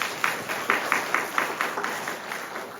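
A church congregation claps to encourage the children, a steady, even patter of many hands with a faint constant hum in the background.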